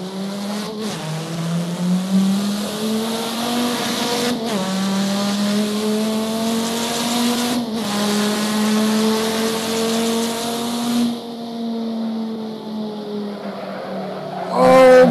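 Race car engine in a racing video game holds a steady loud drone with shifting revs, rising and falling across the run, with brief tire squeal; the engine cuts back near the end before a final burst.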